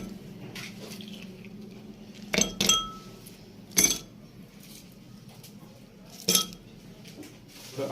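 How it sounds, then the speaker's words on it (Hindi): Ice cubes clink into a glass of tamarind and plum sharbat, several sharp chinks in quick bursts with a couple of separate knocks, close and fairly quiet over a low steady background. "बर्फ़ डालेंगे इसमें।"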